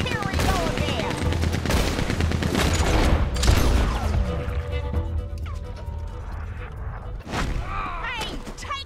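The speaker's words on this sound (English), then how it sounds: "He's going for the Gatling." Gatling gun fire in the Western video game Red Dead Redemption 2, a dense rattle of rapid gunshots and bursts mixed with crashes and thuds, loud and continuous, with voices talking over the battle.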